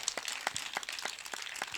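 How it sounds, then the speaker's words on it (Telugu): An audience claps loudly during a Telugu church sermon, a steady run of sharp, overlapping hand claps. "కొట్టు చప్పట్లు గట్టిగా, ఇంకా గట్టిగా."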